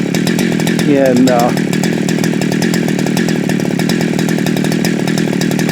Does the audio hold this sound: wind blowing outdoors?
no